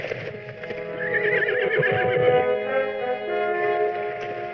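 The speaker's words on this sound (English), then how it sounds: "There's his horse." A horse lets out a long, shrill whinny, with hoofbeats clopping beneath it, close and loud.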